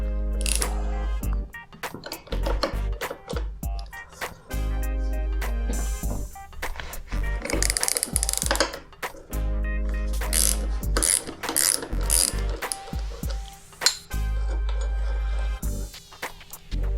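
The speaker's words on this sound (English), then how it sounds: "I'll just loosen up these triple trees." Ratchet wrench loosening the triple tree bolts on a 1980 Suzuki GS450L motorcycle, heard as repeated bursts of rapid clicking and metallic clatter with brief pauses between strokes, close and fairly loud, no talking.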